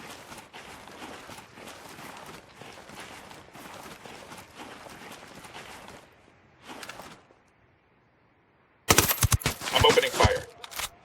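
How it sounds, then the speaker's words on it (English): Gunfire in Ghost Recon breaks out near the end as loud, sharp bursts of rapid shots. Before it come quieter footsteps and movement, a player voice, and a nearly silent gap. "I'm opening fire."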